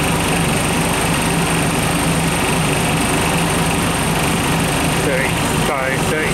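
A 30-to-35-year-old R12 car air conditioning compressor runs loud and close, giving a constant droning hum with a high whine on top and a slight shift near the end.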